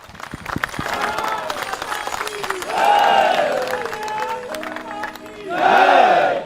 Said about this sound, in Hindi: एक बार जोरदार तालियां मधु और आरती के लिए